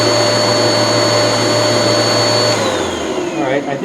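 A Bissell vacuum cleaner runs at full power during an airflow suction test, a loud steady whine with a constant motor tone that shifts pitch and drops near the end as the load changes.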